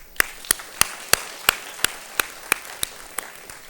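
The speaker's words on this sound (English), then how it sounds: "let's just give a big round of applause for you guys for making it to the big stage" Slow, evenly spaced claps ring out at a postgraduate inauguration ceremony, about ten sharp hits in a steady rhythm, close and clear with no talk over them.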